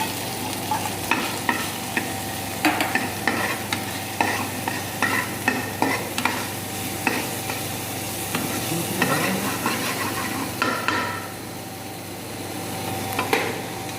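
Chicken pieces sautéing lightly with ginger and garlic in a pan: a steady sizzle runs throughout, broken by repeated sharp scraping and stirring strokes of a utensil against the pan.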